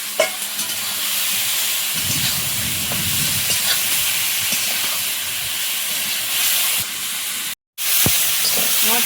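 Potatoes tip into hot spice paste frying in a pan during Sundarban-style home cooking, setting off a sudden, steady loud sizzle with stirring scrapes, broken by a brief silent gap near the end.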